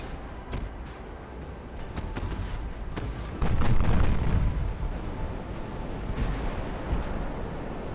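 Main guns of a warship in Ultimate Admiral: Dreadnoughts fire in a series of heavy booms, with sharp reports and one loud rumbling blast midway that trails off into rolling noise.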